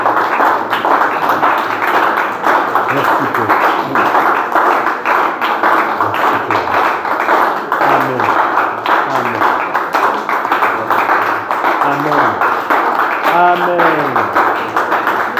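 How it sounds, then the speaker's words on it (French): A church congregation claps and applauds steadily and densely. A preacher's voice carries over the clapping while worshippers call out between the claps. "Applaudis-le."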